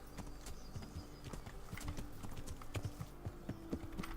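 Steady clip-clop of horse hooves trotting at a quick, even rhythm in the video game Kingdom Come: Deliverance, fairly quiet, with no voices.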